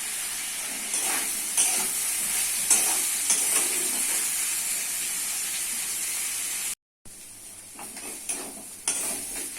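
Spiny gourd and potato with turmeric and salt stir-fry in a pan, making a steady close sizzle and hiss broken by repeated scraping stirs, with a brief cut near the end and no talking.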